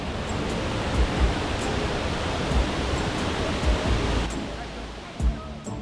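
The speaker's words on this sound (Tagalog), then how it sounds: "Ayan, nakarating na kami doon sa waterfall." A waterfall at Shifen in Taiwan roars as a dense, constant wash of rushing water, loud and steady throughout, with faint voices barely present beneath it.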